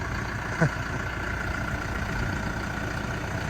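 A low tractor engine idles steadily nearby in a yard, a constant droning hum with one brief thump early on, no voices.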